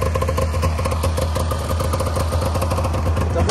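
A 1997 Polaris 500 Touring Classic snowmobile engine idles steadily up close, a loud, even two-stroke putter with light mechanical clatter and no talking.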